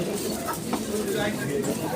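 Pigeons cooing at a busy pigeon market in Demra, Dhaka, soft low coos rising now and then beneath steady crowd chatter and nearby voices.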